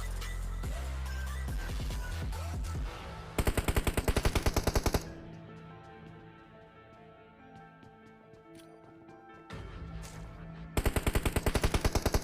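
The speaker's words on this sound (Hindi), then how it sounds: "इसकी साइड वाले बिल्डिंग से शॉट्स आ रहे थे" Rapid automatic gunfire in the battle royale game PUBG, loud close bursts between about 3 and 5 seconds and again near 11 seconds, with lighter shots and game sounds in the quieter stretch between them.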